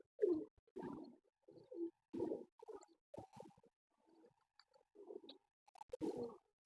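A female Teddy King pigeon coos in a series of soft, low, throaty bursts with short pauses between them, close by in an otherwise quiet space.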